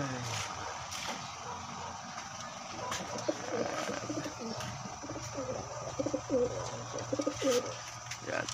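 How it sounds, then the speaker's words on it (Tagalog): Pigeons cooing close by in soft, repeated low calls over a murmuring background, with a few brief voices and chirps mixed in. "May paris na ng kalapatids."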